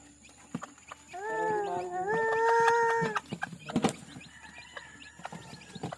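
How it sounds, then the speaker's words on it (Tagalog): Chickens on a Filipino backyard farm give a run of drawn-out, harmonic calls near the start, followed by scattered short clucks and rustling, with a person talking intermittently nearby. "Oh, may manok din niyo oh."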